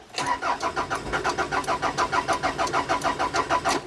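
A Rover 45 car engine cranks repeatedly but fails to start, with a fast, even, rhythmic chugging from the starter that runs loud and close for the whole stretch.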